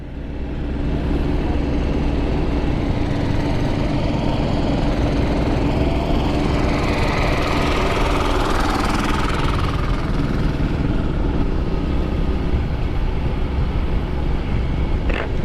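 Motorcycle engines rev and rumble loudly and continuously on a dusty dirt road, a dense rough drone with rising and falling throttle close by, no talk.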